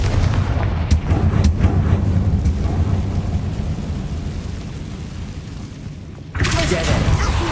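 The Confringo blasting curse explodes in Hogwarts Legacy, giving a loud, dense rumbling blast that rolls on for several seconds before a second sharp burst near the end. Game voices can be heard over it.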